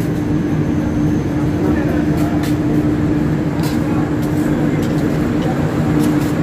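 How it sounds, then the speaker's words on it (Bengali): Howrah-Amritsar Mail train pulling into a platform at Asansol Junction at night, a loud steady low rumble and drone of rolling coaches with intermittent metallic clanks and squeals. "প্ল্যাটফর্ম নম্বর চারে ঢুকেছে ট্রেনটা"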